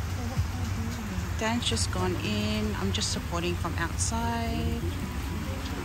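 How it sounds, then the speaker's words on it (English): Rain beginning to fall outdoors on a Samoan island makes a soft, continuous patter under someone speaking close by, with faint background activity. "So it just started to rain"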